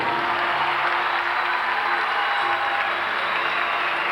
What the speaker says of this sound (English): Put your hands together once again for this wonderful choir of children.